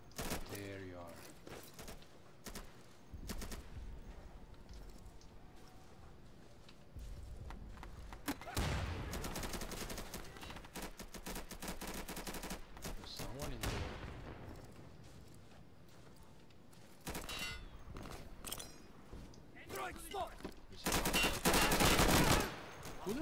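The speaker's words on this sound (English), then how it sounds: "Who the hell is shooting me?" Bursts of rifle and machine-gun fire in Insurgency's town map, sharp loud volleys separated by quieter gaps, with occasional speech between the shots.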